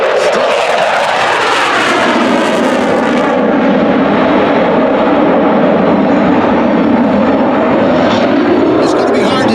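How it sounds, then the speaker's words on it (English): An F-15 Eagle fighter jet performs a morning airshow demonstration, its loud engine roar holding steady and close, then shifting in pitch as it passes, with a commentator talking over it. "Superiority fighter that you see flying now began design in the late 1960s"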